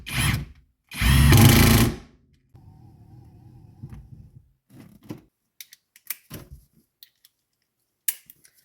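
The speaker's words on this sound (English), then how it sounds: "Two more bolts, baby. Let's get them tightened up." A power tool tightens bolts on a BMW E39 Touring during an interior swap: two loud, close bursts of harsh whirring, then a lower motor hum and a scatter of light clicks and taps.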